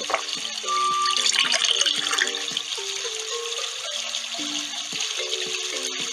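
Cartoon water pouring from an egg into a hole, a splashing, gurgling trickle with bubbly bloops and plinks, close and fairly loud, fading to a softer trickle.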